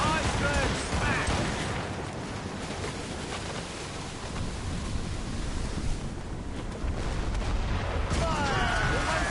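Ship cannons booming in Assassin's Creed Rogue Remastered during a naval battle, heavy blasts rolling over a steady rush of wind and surf, loud and sustained, with crew voices shouting in the background.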